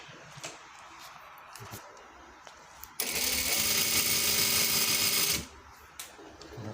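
A sewing machine runs in one steady burst of stitching, loud and continuous for a couple of seconds and then stopping. It is being tested after thread bunching at the start of a seam, with quieter handling noise before and after.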